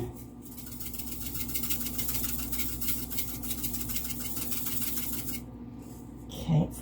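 A pepper grinder is turned over a meatloaf, giving a steady, quiet, fine gritty rasp that continues for several seconds and then stops.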